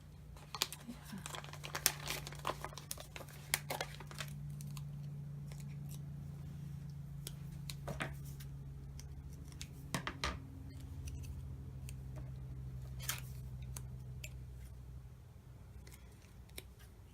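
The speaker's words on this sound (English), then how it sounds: "These labels are not cut very well, so just gonna trim that up a bit." Scissors trim paper labels in a series of quiet, close snips and small crinkles against a low steady hum, with no talk.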